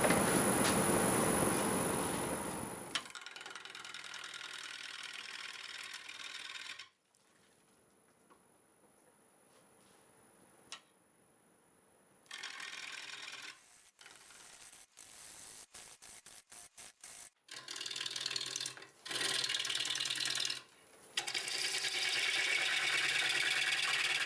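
Live-edge magnolia spinning on a wood lathe at about 600 RPM as a 5/8 bowl gouge cuts it. Loud rough cutting bursts break off into quiet pauses and start again, with a thin high whine running through.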